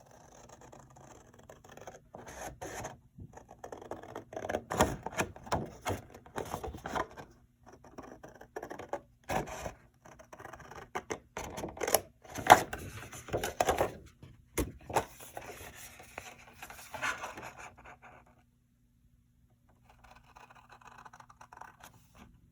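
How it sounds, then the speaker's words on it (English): Scissors cutting a square piece of card along drawn lines, with close, quiet scraping and snipping in irregular bursts, a few sharper clicks, then a short silence near the end. "I'll just cut it out, following those lines."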